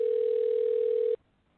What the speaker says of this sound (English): Right, I hear it ringing.